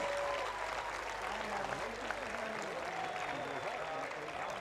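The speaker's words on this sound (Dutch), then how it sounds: "Mag ik nog een groot applaus voor de winnaars NWM 2026 editie kerst." A crowd applauds the winners at a fierljeppen (canal pole-vaulting) final, a continuous distant wash of clapping heard faintly with a voice talking over it.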